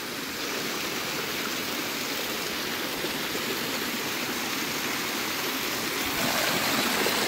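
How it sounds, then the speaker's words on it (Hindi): Steady rushing of a hill stream in Mukteshwar, Uttarakhand, a continuous broadband flow with no breaks, moderately loud and nearby. "ऊपर से जो पानी बह रहा है, इसमें बढ़ोतरी हुई है"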